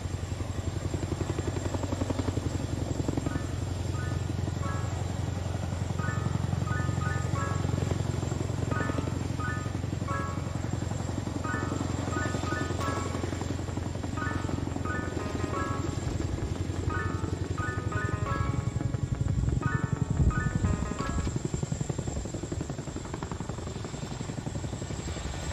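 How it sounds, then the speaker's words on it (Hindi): Indian Air Force Boeing Chinook helicopters maneuvering at an air display: a continuous heavy rotor drone with low thumping and engine whine, loud and steady throughout. "now you can see both the Chinooks are facing each other"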